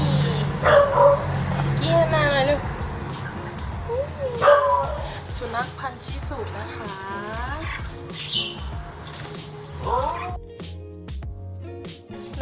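A Bangkaew dog yips and barks several times, with whimpering cries among the sounds. Someone talks over and between the barks close by, and a few harmonic tones ring out near the end.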